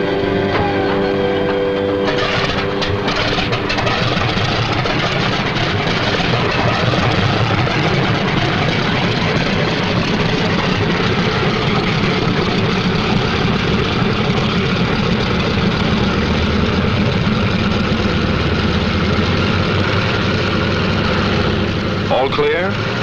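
Several 1945 propeller-driven fighter planes take off in pairs, their engines a loud, sustained, rumbling drone that fills the whole stretch, with speech over it.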